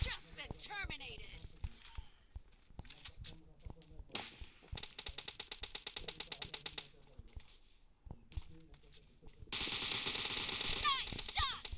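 Rapid automatic gunfire crackles from a mobile shooter game during a 4v4 team deathmatch, with bursts of rifle fire and short pauses, while game voice callouts and announcements play between the shots.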